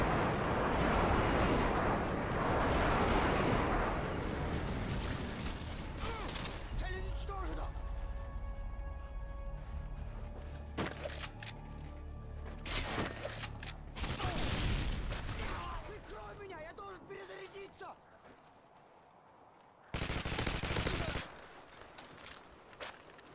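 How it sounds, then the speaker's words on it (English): Friendly airstrike explosions in a video game boom and rumble heavily, layered with rapid gunfire and brief sharp blasts, and voices speak over the battle noise. "Friendly airstrike on the way."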